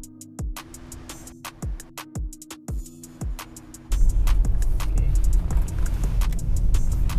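A car being test driven after servicing, with clunks and idle hum at first, then a steady louder engine and road rumble as it pulls off.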